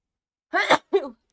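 Two quick explosive bursts close to the mic, a sharp sneeze followed by a second shorter one, in an otherwise quiet room.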